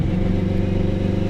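An 800hp turbocharged all-wheel-drive Acura RSX Type-S fires out a loud, harsh, rattling exhaust drone close beneath the cabin, holding steady and dense through a brief pull.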